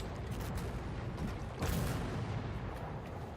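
A tank's main cannon fires once in the Armored Warfare game, a single booming report partway through that rises over a steady rumble of engine and battlefield noise.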